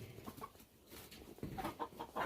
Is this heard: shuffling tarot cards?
no